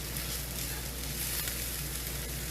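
A steady, dense sizzle of spices frying in a hot pan, continuous and close, with no talking.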